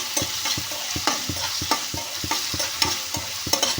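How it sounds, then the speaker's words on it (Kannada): Chopped onions fry in a new pan under a constant sizzle, with regular scraping strokes of a spatula stirring them about every half second, close and moderately loud, no voices. "ಈಗ ಇದಕ್ಕೆ ಈರುಳ್ಳಿ ಕಟ್ ಮಾಡ್ಕೊಂಡಿದ್ಮೇಲೆ ಅದು ಹಾಕೋಣ."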